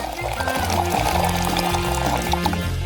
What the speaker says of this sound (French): Maintenant, on va verser de l'eau.